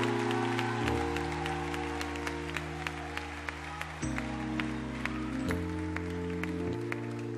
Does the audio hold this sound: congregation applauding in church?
yes